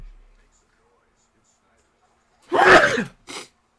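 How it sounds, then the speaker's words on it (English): One loud sneeze bursts out of near silence, followed by a short second exhale. "I'm not done sneezing yet either."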